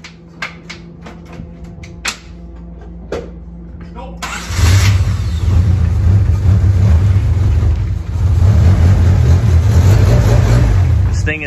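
A Honda D-series engine built from a Y7 head, Y8 harness and Y5 block and intake cranks with rapid clicking, then catches and runs loudly with revving surges, heard up close.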